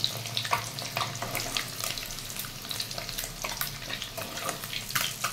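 Eggs fry in hot oil with a continuous close crackle and sizzle. Scattered sharp pops stand out above the bubbling.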